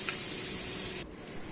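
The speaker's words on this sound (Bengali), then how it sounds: "যাতে পেঁয়াজগুলো ভাজা হয় ভালো করে" Onions sizzling and frying in a pan over a high gas flame, a steady broadband hiss that drops sharply in intensity about two-thirds of the way through, with no voices.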